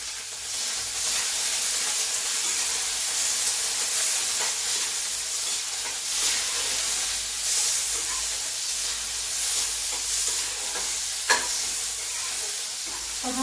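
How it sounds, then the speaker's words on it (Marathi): Cluster beans, green chili and garlic roasting in a spoonful of oil in a pan, giving a close, continuous sizzle and crackle with occasional louder pops and stirring scrapes. "यात पॅनमध्ये मी तेल घातलेलं आहे एक चमचाभर याच्यात ही गवारी घातली मिरची घातलेली आहे आणि हा लसूणही घातलेला आहे आता आपण हे व्यवस्थित भाजून घेत आहोत"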